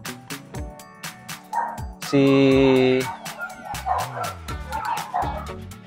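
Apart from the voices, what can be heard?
XL American Bully dogs barking and whimpering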